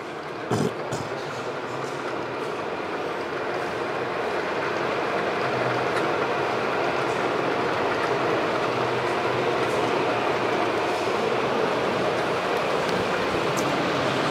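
A model Avanti train rolls steadily along a model railway track, a continuous close rattle and hum that builds slightly and holds, with no talking.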